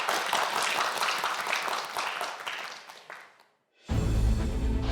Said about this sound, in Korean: 박수 보내주시죠.